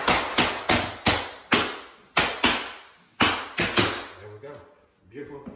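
A tapper block knocks laminate flooring boards into place, giving a run of about a dozen sharp, close wooden taps in an uneven rhythm before things go quiet and a faint voice follows.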